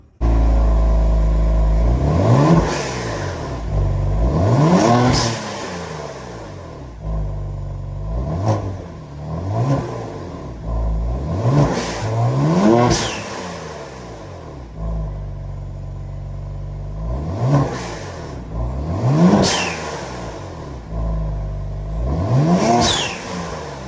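A 2022 Genesis G70 with the 3.3 twin-turbo engine and Ark downpipes, heard from inside the cabin, revving repeatedly in a series of rising and falling pulls over a deep, steady rumble.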